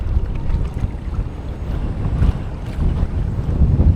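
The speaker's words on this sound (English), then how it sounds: "It is a little windy out here." Steady, loud wind rumbles and buffets across open water around a kayak, with low turbulent noise throughout and no voices.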